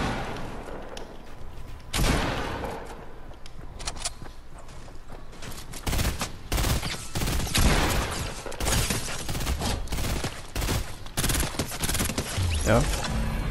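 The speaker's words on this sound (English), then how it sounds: "I hear gunshots" Rapid bursts of gunfire in Fortnite crackle repeatedly, some sharp single shots and dense volleys, loud and close, in a noisy game mix.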